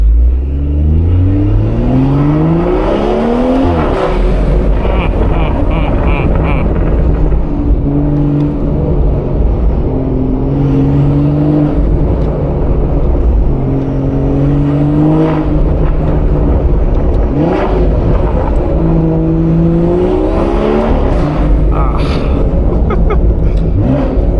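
A BMW 440i with 330 hp revs hard from the cabin, its engine note climbing repeatedly and dropping sharply at each quick gear change, loud and continuous throughout.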